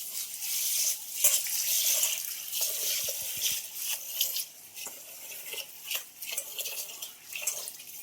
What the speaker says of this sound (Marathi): ही 2-3 पाण्याने मी धुतली आणि आता हे पाणी यात ठेवलंय.